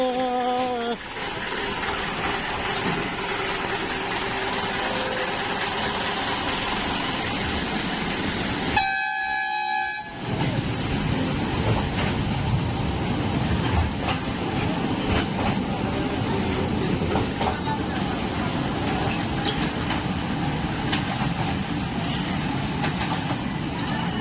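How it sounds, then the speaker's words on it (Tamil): A small museum train at the Chennai rail museum rumbles and clatters steadily nearby, with a brief horn toot partway through, the noise continuing loudly throughout. "இந்த ட்ரெயினுக்காக தான் வந்தான் ட்ரெயின் இப்போ போயிடுச்சு"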